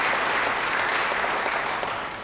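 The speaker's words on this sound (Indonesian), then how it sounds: "Beri tepuk tangan bagi Dia." A church congregation claps together in a steady, full wash of applause that continues evenly throughout and fades slightly at the very end.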